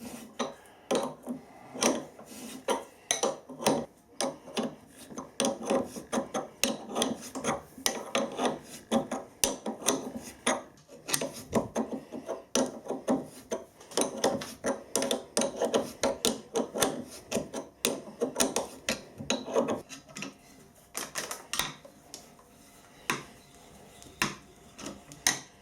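A sharp helicoil kit tap is turned by hand, cutting threads in aluminium under gentle quill pressure, giving a steady, quiet raspy scraping in repeated short strokes, close and without talk.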